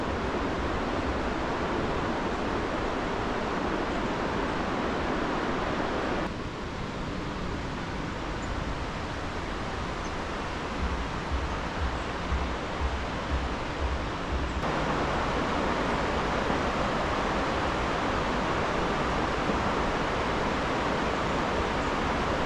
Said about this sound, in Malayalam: അങ്ങനത്തെ ഒരു ആംബിയൻസ് ആണ് ഇവിടുത്തെ പുഴയ്ക്ക്